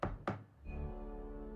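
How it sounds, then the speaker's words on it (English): Two sharp knocks land in quick succession, followed by a sustained resonant boom that rings and hums steadily until the end, heard alone without talk. "Knock, knock, knock, boom."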